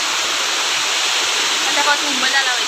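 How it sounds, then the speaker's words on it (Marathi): Steady, dense rushing water noise fills the whole clip, like a heavy downpour, with faint voices and brief whistly sounds rising near the end. "कसला पाऊस पडतोय आता"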